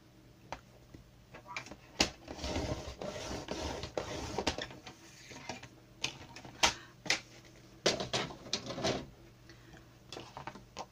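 Paper being folded and creased into a small mask box: crisp, close crackles and rubbing strokes, with several sharp snaps of the sheet between quieter scraping passes.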